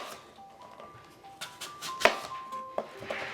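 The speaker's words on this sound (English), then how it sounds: "Next, I'm going to slice an apple." A knife slices through an apple on a cutting board, giving several sharp, separate cutting taps at irregular intervals over quiet background music.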